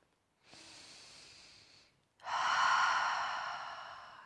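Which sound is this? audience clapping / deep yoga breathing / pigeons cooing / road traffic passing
deep yoga breathing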